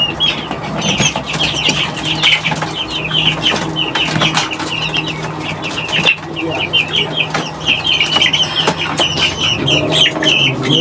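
A coop of Brahma-cross laying hens clucking continuously, close and busy with overlapping calls and occasional wing flaps, a person talking intermittently beneath.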